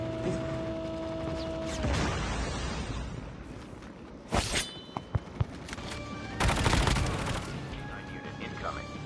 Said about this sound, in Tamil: ஃப்ரண்ட்ல ஃபயர் சவுண்டு